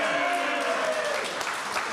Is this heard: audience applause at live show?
yes